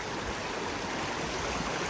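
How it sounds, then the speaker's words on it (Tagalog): A river rushes in a steady, broadband wash of flowing water, constant and fairly close with no talk over it. "So ito yung ilog ngayon. Grabe, sobrang ganda ng ilog."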